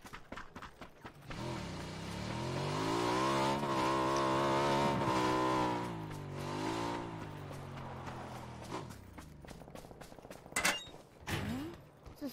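A motorcycle engine in the video game PUBG revs up and holds a steady, loud drone with shifting pitch for several seconds, then fades out, leaving a few scattered clicks and clunks.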